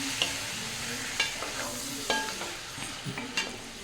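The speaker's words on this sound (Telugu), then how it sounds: "కొద్దిగా ఆయిల్ వేసి చికెన్కి సరిపడగా ఆయిల్ వేసి చికెన్ వేసేస్తున్నాను" Chicken frying in a little oil with salt and ginger garlic paste, a steady close sizzle broken by several sharp scrapes and clicks of a spoon stirring against the pan.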